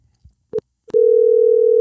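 A phone call being placed: a few short dialing blips followed by a loud, steady ringback tone that holds alone without any talking.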